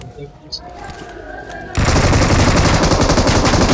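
UMP submachine gun fire in a battle royale video game starts abruptly as a loud, dense, continuous burst of rapid shots following quieter game ambience.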